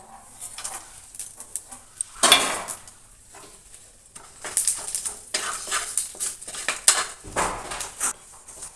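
Dried red chillies, bay leaf, whole garam masala and cumin hit hot oil with a bright sizzle. Repeated metal spoon clatter and stirring bursts follow, close up and with no talk.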